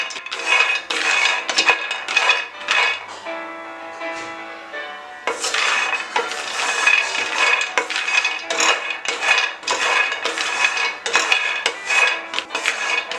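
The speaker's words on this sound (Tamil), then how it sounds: "இப்போ நம்ம ரோஸ்ட் பண்ணிக்கலாம் லோ ஃப்ளேமில்." Hazelnuts roasting in a pan over a low flame rattle and scrape as they are stirred, giving repeated clattering metallic clinks close by with a short quieter pause in the middle, and no one speaking.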